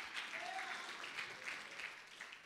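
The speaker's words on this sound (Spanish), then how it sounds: "demos fuerte palmas a nuestros invitados en esta tarde" A church congregation claps for guests in a sustained round of applause, moderately distant and soft, with faint voices mixed under the clapping.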